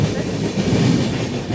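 Rumbling, rattling interior of a moving non-air-conditioned passenger train travelling from Delhi to Haridwar, a continuous close low roar with faint rhythmic wheel clatter.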